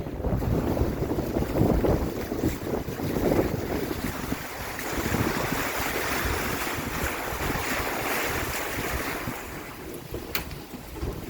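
A sailboat under well-trimmed sails glides across a calm sea off the Baja Peninsula, with a steady, close rush of wind and water washing continuously around the hull and no voices.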